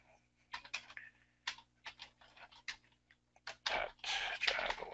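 Typing on a computer keyboard, entering a name into software for sheet metal design data: bursts of quick clicking keystrokes, close and clear, with short pauses and a denser run of keys near the end.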